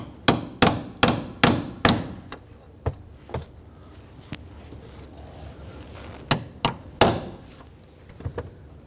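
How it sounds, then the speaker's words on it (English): Deep socket tapped to seat a door jamb switch on a 1997-2006 Jeep Wrangler, a quick series of sharp metallic knocks, then scattered lighter taps with pauses, close and clear. "I'm going to line that up. I'm just going to tap that into place."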